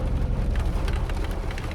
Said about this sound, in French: Il pleut, c'est un truc de fou.